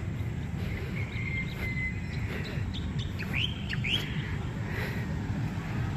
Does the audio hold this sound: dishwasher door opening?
no